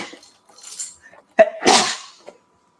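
A single sharp sneeze bursts out loud and close after some faint background murmuring, trailing off into a brief breathy tail.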